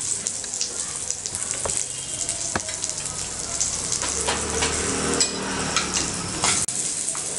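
Fried peanuts and ivy gourd pieces hiss and crackle in a hot pan, a dense continuous sizzle with scattered pops and stirring scrapes close by.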